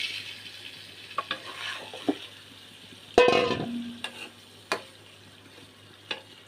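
Marinated hilsa fish frying in a spice masala, a low sizzle punctuated by sharp spoon scrapes and taps and one loud clattering stir in the middle, no talking.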